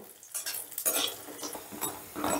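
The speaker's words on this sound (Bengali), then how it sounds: "এবারে আমি বড়িগুলোকে হালকা লাল করে ভেজে নেব।" Bori lentil dumplings being fried in oil in a pan, light sizzling with intermittent scraping and clinks of a spatula stirring them, close and fairly quiet.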